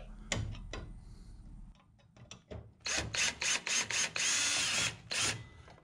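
Small screws are backed out of a combo vending machine with a ratcheting driver, giving quick clicking bursts and a few close metallic clicks and taps, with a longer stretch of loud ratcheting near the end.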